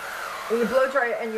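A blow dryer runs with a steady whir while a rotating round barrel brush styles brassy, bushy hair, the motor tone rising and dipping as the brush moves up and down close by.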